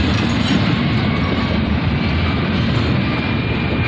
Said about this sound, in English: This is called the express train. The passenger train, the express train.